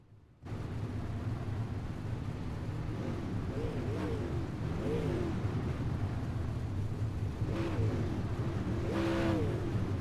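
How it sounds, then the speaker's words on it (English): Modified race cars roar along the back straightaway of a dirt track, a continuous dense engine drone with a few rising and falling revving passes standing out, heard from a distance with no talking. "we got a lot of modifieds out on the back straightaway"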